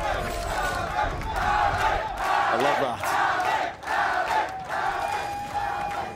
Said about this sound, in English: The crowd getting behind one of our youngest players here as well.